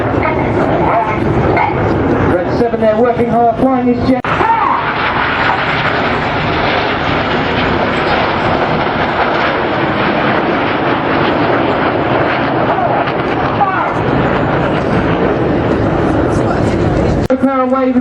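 A Red Arrows Hawk jet display at the 2014 Blackpool Air Show: a loud, continuous jet engine roar fills the whole stretch while a commentator speaks over it.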